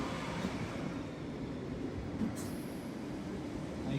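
A London Underground Piccadilly line train arrives, filling the tunnel with a dense, steady rumble and roar. It is loud and continuous, with a brief higher screech partway through and no talk over it.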